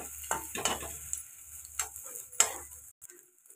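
Egg pieces frying in a kadai for street-food-style egg noodles: a soft hiss of oil runs underneath while a few sharp scrapes and stirring knocks come and go.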